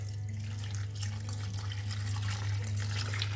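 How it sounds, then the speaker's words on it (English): Water runs steadily from a tap into a container to finish a brine for an Egyptian goose, a continuous close rushing flow without talk. "that one I fill it up with water to complete the brine"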